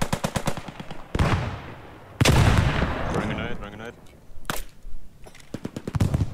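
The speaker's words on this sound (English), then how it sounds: "I'm getting shot from the forest." Gunfire in the Squad 44 war game: sharp, loud bursts of rapid machine-gun fire and single shots close by, with echoing tails and a quieter gap between volleys.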